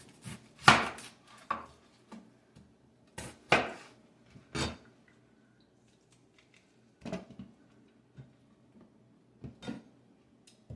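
Half an onion chopped with a knife on a board for guacamole: scattered, irregular thuds in small bursts with pauses between, close and fairly crisp.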